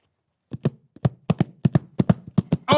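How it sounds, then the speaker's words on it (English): A horse hooves sound effect: a quick series of light, sharp taps in uneven pairs, clip-clopping on a hard surface, steady and close, with a louder rattle at the end. "Oh, that's a horse."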